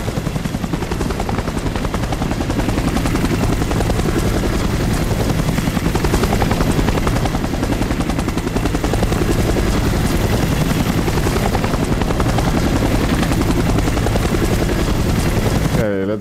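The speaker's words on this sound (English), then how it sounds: "Okay, let's shoot down this chopper quickly." Loud, steady rotor thumping and engine roar of a helicopter in the video game Resident Evil Operation Raccoon City, continuous and close throughout, with a voice speaking over it at times.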